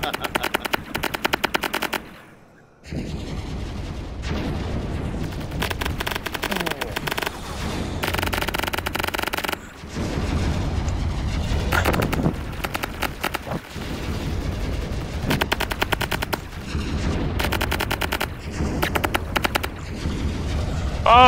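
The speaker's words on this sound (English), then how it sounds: "somebody's shooting me" Gunfire in the VR flying game BattleSky VR: rapid machine-gun bursts in long, loud strings, broken by a brief quiet gap and later pauses.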